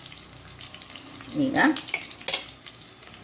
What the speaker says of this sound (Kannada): ಕಡಲೆಬೇಳೆ ಮತ್ತು ಉದ್ದಿನಬೇಳೆ ಸ್ವಲ್ಪ ಕಲರ್ ಚೇಂಜ್ ಆಗಬೇಕು, ಅಷ್ಟು ತನಕ ಸ್ವಲ್ಪ ಫ್ರೈ ಮಾಡ್ಕೊಳ್ಳೋಣ